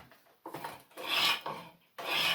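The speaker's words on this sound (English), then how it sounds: "this is a flat-bladed spoke shave" A flat-bladed spokeshave shaves a wooden chair part in a few short rasping strokes, each a close, breathy scrape with pauses between.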